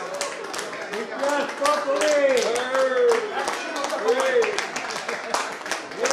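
Audience applause greets the Commander-in-Chief at a 1971 graduating batch alumni gathering, steady clapping running throughout with voices and singing-like tones over it.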